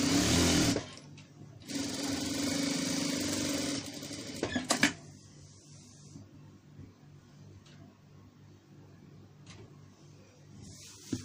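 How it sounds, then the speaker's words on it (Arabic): A sewing machine stitches a wide pillowcase edge in two loud, rapid mechanical bursts, then stops, leaving quiet handling clicks and faint rustling of fabric. "ونبدأ نخيط كده"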